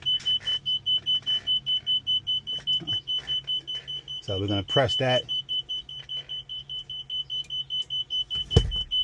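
A steady, evenly spaced electronic low-fuel warning beeping repeats throughout in a twin-turbo LS Chevy C10, with someone talking over it and a brief engine rev near the end.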